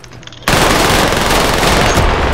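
Loud, dense automatic gunfire in the video game Warzone bursts in after a brief quiet start and rattles on continuously at close range.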